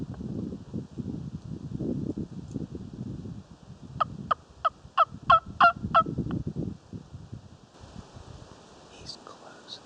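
A wild turkey hen calls in the woods during a Tennessee spring hunt: a quick series of about eight sharp, evenly spaced yelps mid-clip, fairly close, with rustling and low murmured talk before and after.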